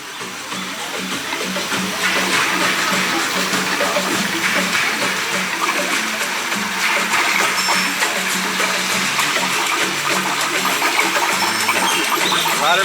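Water flowing along the Journey of Water walkway at EPCOT, a steady close rushing and gurgling stream that stays even in level throughout with no voices.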